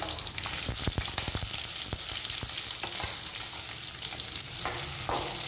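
Onion with red and green chillies sautéing in a pan for idli sambhar, a steady close sizzle and crackle with scattered scrapes and taps of a stirring utensil, no voices.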